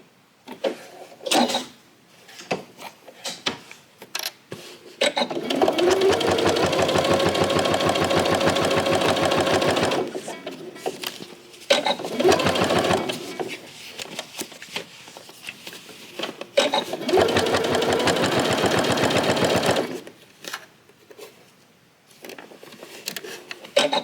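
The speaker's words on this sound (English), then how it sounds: "so I will turn at the bottom and stitch across." A sewing machine stitches across the bottom of a fabric pouch in long steady whirring runs broken by short pauses, loud and close with no talk over it.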